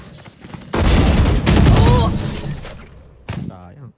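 Rapid bursts of automatic gunfire in a shooting video game rattle loudly in close succession, with a brief second burst near the end and voices chattering over the action.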